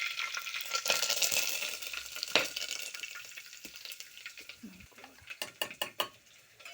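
Curry leaves sizzling and crackling in hot tempering oil for tomato kadhi, a bright continuous fry with occasional stirring and utensil clinks, close and fairly loud, fading toward the end.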